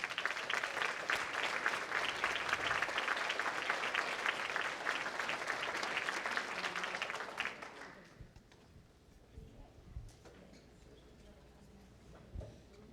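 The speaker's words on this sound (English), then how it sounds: "Let's give them a great round of applause" Crowd at a California District 6 Dairy Princess pageant gives a loud, sustained round of applause that stops abruptly, leaving quiet room noise with faint stray sounds.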